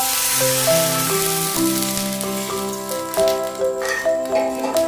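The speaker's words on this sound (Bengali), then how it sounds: "এরপরে একটু জল ঢেলে দিচ্ছি।" Water poured into hot oil holding ginger-chili paste bursts into a bright, hissing sizzle that crackles steadily up close, with a soft tonal melody running underneath.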